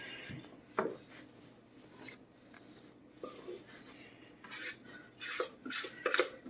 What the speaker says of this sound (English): I'm going to scrape out as much of this as I can.